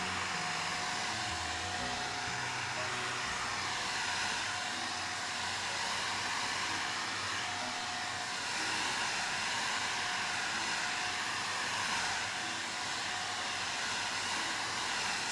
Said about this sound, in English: I'm gonna blow dry it a little bit.